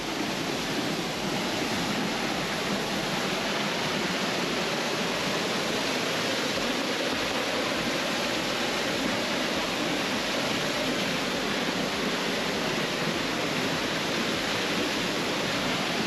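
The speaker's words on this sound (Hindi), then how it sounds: "ये देखिए पानी का फ्लो, यहाँ से पत्थरों पे पानी गिरता है" A fast, powerful flow of water pours over rocks at a waterfall in Yumthang Valley, North Sikkim, making a dense, unbroken roar that holds steady and loud from start to finish.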